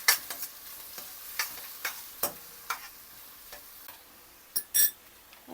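Onions fry in a pan for chicken kurma, with faint sizzling under scattered sharp clicks and scrapes of stirring, close and fairly quiet, with no talking.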